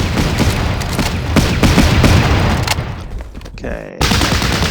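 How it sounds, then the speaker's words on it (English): Sustained automatic fire from a German MG34 machine gun in the World War II strategy game Battle Academy 2, loud rattling bursts with booming impacts, briefly cut out near the end and then resuming; one short spoken word. "Can we get the German MG34"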